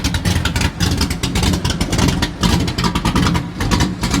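A Chevrolet Tri-Five car engine revs at the Tri-Five Nationals 2023 in Bowling Green, Kentucky, a loud, rough, continuous roar that pulses up and down close by, with no talking over it.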